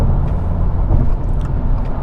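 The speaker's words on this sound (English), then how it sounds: "It's nice and subdued, and it's also a good tone from this flat 4" A 2025 Subaru WRX tS flat-four engine cruising in sixth gear at highway speed, a steady, subdued low drone with road and tire rumble, loud and continuous with no talk over it.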